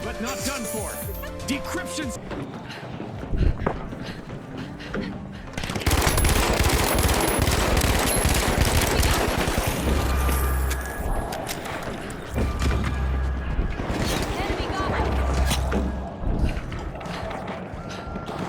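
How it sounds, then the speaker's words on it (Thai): Rapid automatic turret fire in the shooter game The Finals rattles loud and sustained in long bursts, mixed with mechanical clatter and game action, while a player talks over it. "โอ้ยสไนวายโดนป้อมปืนยิงตาย"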